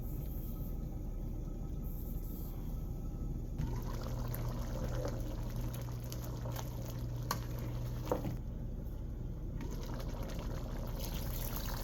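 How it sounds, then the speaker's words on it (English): Water pours steadily into a pot of Nigerian okra soup, a continuous splashing trickle with a faint bubbling underneath, close and moderately quiet. "I decided to add a little bit of water."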